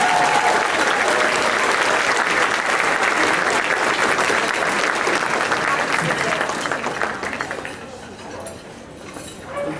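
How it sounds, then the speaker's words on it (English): A big round of audience applause for student performers at a partner-in-education luncheon, steady dense clapping from a crowd with faint clinks of dishes, gradually dying down near the end. "Another big round of applause for our student performers."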